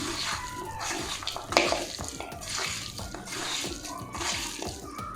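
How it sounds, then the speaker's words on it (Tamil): Country chicken pieces mixed by hand with salt and curry leaves for a marinade: a steady, close, wet squelching and slapping that runs throughout with no talk. "இப்போ இது எல்லாத்தையும் நம்ம நல்லா பிசைஞ்சு ஊற வைக்க போகிறோம்"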